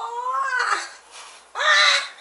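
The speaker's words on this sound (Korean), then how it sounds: "까마귀야?" A crow gives two drawn-out, harsh caws separated by a short pause, close and clear against a quiet background.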